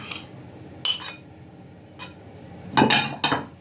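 A spoon stirs an egg, sausage and cheese filling in a pot, giving a few separate metallic scrapes and clinks, the loudest near the end, with quiet gaps between them.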